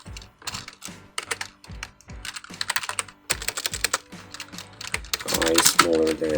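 Rapid keystrokes on a computer keyboard while entering C# code for a do-while loop, clattering in uneven bursts with brief pauses, close and fairly loud, with a voice speaking near the end.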